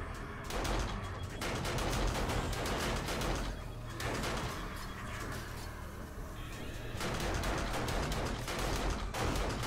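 Automated turret firing at a zombie horde in 7 Days to Die, a dense, continuous barrage of rapid shots with bursts of impacts, loud and close throughout with no pause.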